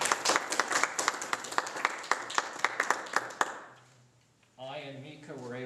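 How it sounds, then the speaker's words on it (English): Audience applause at a fundraising gathering: sparse, individual claps in an uneven rhythm for about three and a half seconds, fading out, followed by a speaking voice. "I think a round of applause is deserved here."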